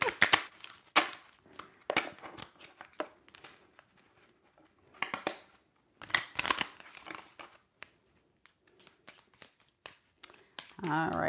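A brand new deck of shadow work cards is shuffled in repeated bursts of riffling and flicking, close and crisp, with pauses between rounds and quiet talking in between.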